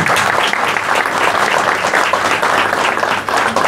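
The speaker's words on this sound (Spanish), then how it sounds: "le damos un fuerte aplauso a bienvenida a cada uno de ellos" A crowd at a regional rally in La Tordilla gives strong, sustained applause welcoming the participants, with dense, even clapping filling the whole stretch.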